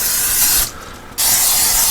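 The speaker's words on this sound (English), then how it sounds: "I'm gonna spray that a little with Pam" Two loud bursts of Pam cooking spray hissing close by from an aerosol can, separated by a short gap where the hiss drops away.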